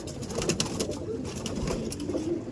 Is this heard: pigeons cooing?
yes